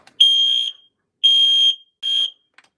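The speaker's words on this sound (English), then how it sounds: "the CO alarm won't do anything with the fire alarm" A Vigilon fire alarm panel sounds three loud, shrill electronic tones, two longer pulses and a shorter one separated by silent gaps, heard close and alone.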